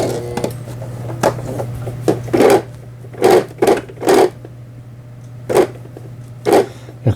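Brother XL6050 sewing machine sewing an overlock stitch, short bursts of rapid mechanical stitching that start and stop about eight times over a faint steady motor hum, close and fairly loud, with no talking.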